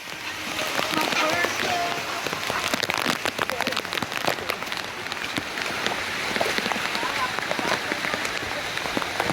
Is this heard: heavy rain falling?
yes